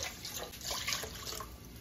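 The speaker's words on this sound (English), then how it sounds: "add in 2 cups of warm water" Warm water pours steadily into a large bowl for pretzel dough, a continuous close splashing rush with no talking.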